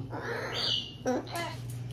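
A pet parrot gives a few short calls and squawks at close range, separated by brief pauses over a low steady background hum.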